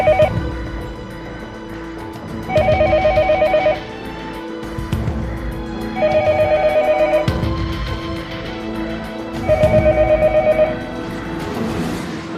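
A telephone ringback tone sounds during a call, three evenly spaced ringing bursts of about a second each, loud and close over a steady background hum.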